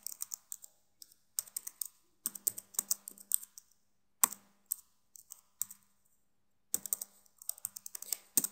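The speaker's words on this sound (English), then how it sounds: "So let me type it really quick." Keys clack on a computer keyboard in quick bursts of close, crisp typing separated by short pauses.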